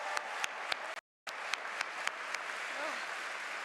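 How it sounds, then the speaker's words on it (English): Steady crowd applause at a graduation ceremony with sharp individual claps standing out, briefly cut to silence before the clapping resumes and carries on. "Can we get another round of applause?"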